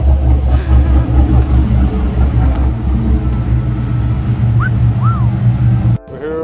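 A cammed 5.3-liter truck V8 idles after a tune, a loud, choppy low rumble with a lumpy uneven beat running throughout, briefly cut off near the end.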